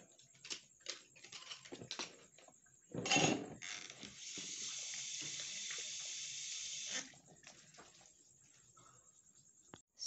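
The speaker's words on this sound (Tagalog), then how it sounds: "natapos ko ng hugasan yung mga ginamitan ko kanina" Running tap water splashes into a kitchen sink while used dishes are washed at home, with soft clinks and handling noises around a steady stream of several seconds, faint and fairly close.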